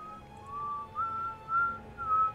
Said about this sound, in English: Whistling is bad for you.